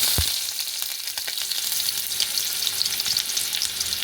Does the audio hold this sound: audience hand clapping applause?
no